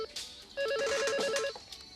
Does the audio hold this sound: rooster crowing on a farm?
no